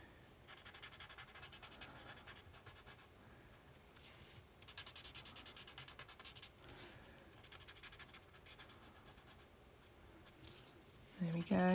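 A paper tortillon rubs graphite pencil shading on paper, producing a steady, soft scratchy swishing in repeated strokes, close and fairly quiet, with a brief louder knock at the very end.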